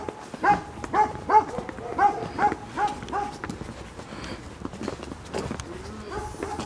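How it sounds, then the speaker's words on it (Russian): Several dogs bark in a quick, loud run of overlapping barks outdoors, then taper off into quieter, scattered barking. "А, видишь, они как разоряются, собаки."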